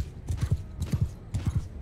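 Horses gallop in the video game Mount & Blade 2: Bannerlord, heavy hoofbeats in quick triple clusters that repeat rhythmically, loud and close, with no speech.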